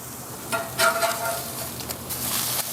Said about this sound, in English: let's get them flipped over and seared on the second side